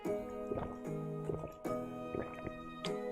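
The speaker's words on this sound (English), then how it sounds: "I hate the sound of my own drinking." Repeated wet slurping gulps of water drawn through a straw, close to the microphone, in a quick irregular rhythm with short pauses between sips.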